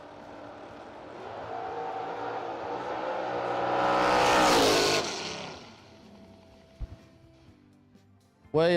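A Camaro drag race car launching at a bracket race, engine roaring up in a rising pass-by swell that peaks and fades away down the strip, followed by distant track noise.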